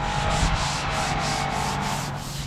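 Rapid rhythmic scrubbing of grime off a Volvo F7 truck part, a harsh rasping back-and-forth stroke repeated several times per second, close and steady throughout.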